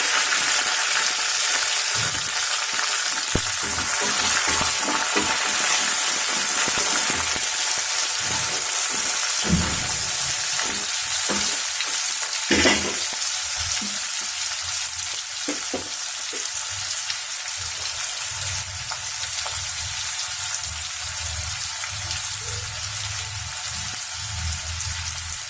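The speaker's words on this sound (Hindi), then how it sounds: "अभी ये ऑनियन को ब्राउन करके फ्राई करना होगा" Onions and curry leaves frying in hot oil for Malabar chicken curry, a steady close sizzle throughout with intermittent scraping and stirring clatter from a utensil in the pan.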